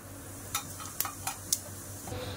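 Cumin seeds dropped into hot oil in a pressure cooker, a faint soft sizzle with a few sharp metallic clicks and taps of a spoon against the pot, close and quiet, no talking.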